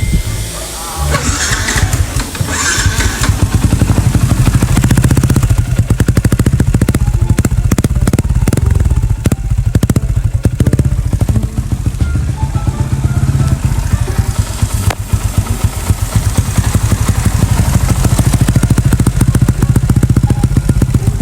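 A Yamaha Exciter 150cc motorcycle engine starts and then idles close by, a loud, rough, continuous running rumble with some revving and clatter, while someone talks over it.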